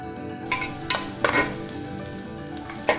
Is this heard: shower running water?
no